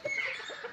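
Aseel breed rooster giving a short run of low clucks, close and fairly clear, with a faint high tone running behind it.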